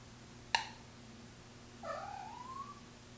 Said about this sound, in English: Sorry about my cat again.